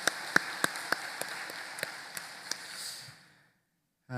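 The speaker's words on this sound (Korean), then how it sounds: "우리 그 하나님 앞에 감사하는 마음으로 박수로 감사하도록 하겠습니다." A church congregation claps together in thanks at a Sunday service, a dense, even wash of applause with a few sharper claps standing out, fading away and ending in silence.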